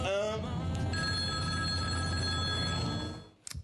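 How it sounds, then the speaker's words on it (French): A telephone rings loudly and steadily onstage during a stage play, a continuous bell tone lasting about three seconds before cutting off, followed by a few brief clatters. "Florent, le téléphone sonne."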